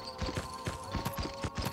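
Horse hooves in the Red Dead Revolver video game clip-clop in a quick, steady walking rhythm, fairly soft and with no talk over them.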